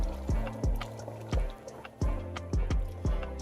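A pot of bean stew with blended ingredients and smoked turkey gets stirred, giving a string of close wet knocks and sloshing splats at an uneven rhythm.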